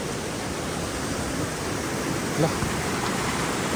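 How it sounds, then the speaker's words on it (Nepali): A loud mountain river on the North Annapurna Base Camp trek rushes in a constant, broad roar, with a brief faint voice barely emerging from the torrent. "खोलाको आवाज एकदम ठुलो छ"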